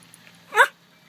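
A small dog gives a single short, sharp bark, close and clear, standing out against a quiet room background.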